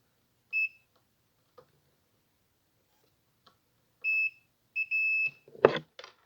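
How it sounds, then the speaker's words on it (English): A multimeter in continuity mode gives short, sharp electronic beeps: one brief beep, then a pause, then three more in quick succession, clear and close in an otherwise quiet room, during probing of a Wacom Cintiq Companion tablet's charging port pads. "If multimeter beeps, that is the ground charger pad."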